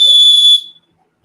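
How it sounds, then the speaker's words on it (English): A single sharp, shrill blast of the small emergency whistle built into a backpack chest strap, loud and close, lasting about half a second before stopping abruptly into silence. "chest strap with emergency whistle."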